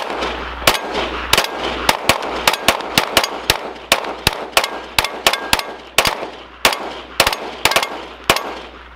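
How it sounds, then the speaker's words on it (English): Rapid gunshots are fired at a safety glasses target, a long run of loud, sharp cracks close by at an uneven rhythm, with roughly two dozen reports in quick succession and no talking. "Just keep shooting"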